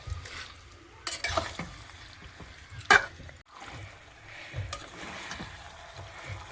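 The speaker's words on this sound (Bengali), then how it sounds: "চিকেনটা ভালো করে কষা হয়ে গেছে" Chicken sautés in oil in a pan, a quiet low sizzle broken by several scraping stir strokes and one sharp clatter of a spatula against the pan.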